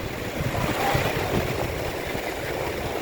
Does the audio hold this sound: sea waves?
yes